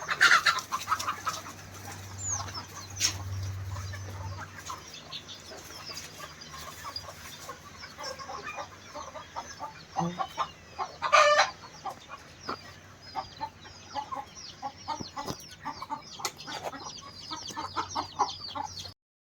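Native country chickens and broiler chickens on a poultry farm cluck steadily and close by, with scattered sharper calls rising over a continuous flock murmur throughout.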